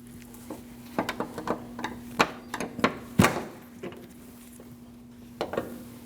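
Metallic taps and knocks from a wrench working the 12mm nut on the lower ball stud of a liftgate lift support on a 2003-2008 Subaru Forester, irregular clicks and clanks up close over a steady hum, no talking.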